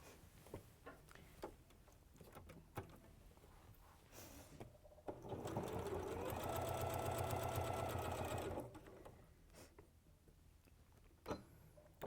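A domestic sewing machine stitches a quarter-inch seam along the long edge of quilt fabric, one steady mechanical run of about three and a half seconds with quieter handling of the cloth before and after.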